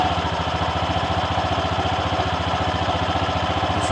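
An automatic scooter engine, test-started after flood damage and repair, idles steadily up close with an even, rapid putter and a constant mechanical hum, and no voices.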